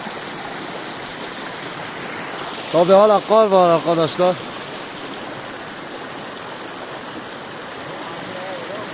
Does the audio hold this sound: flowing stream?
yes